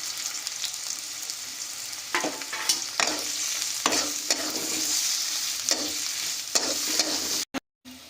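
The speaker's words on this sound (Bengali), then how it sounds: "পেঁয়াজটাকে দিয়ে খুব ভালো করে আমরা ভাজা করে নেব।" Onions fry in hot oil for chicken biryani, sizzling steadily and close, with repeated scraping strokes of a spatula stirring the pan every second or so, then an abrupt stop near the end.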